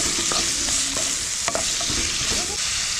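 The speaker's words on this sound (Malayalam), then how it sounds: "സവാള ചേർത്തിട്ട് നന്നായിട്ട് നമുക്കൊന്ന് വഴറ്റിയെടുക്കാം." Chopped onions sauté in hot oil for a Kerala beef masala, a constant close sizzle broken by scraping stirs of a spatula against the pan.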